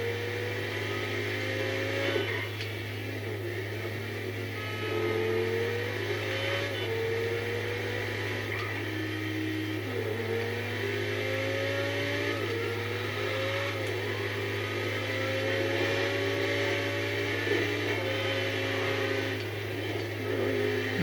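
A car engine drives in GTA 5, a steady droning hum that rises and falls in repeated shifts through the gears, with no voices.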